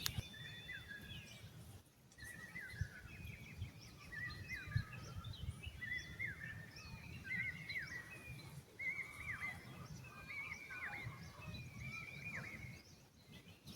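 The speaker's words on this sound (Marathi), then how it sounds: "हा पक्षी देखील म्हणतो की पावसा आहे, पावसा आहे" A bird calls repeatedly in the Konkan countryside as monsoon rain is awaited, its short chirping phrases recurring at a steady pace, moderately distant and faint over a low outdoor rumble.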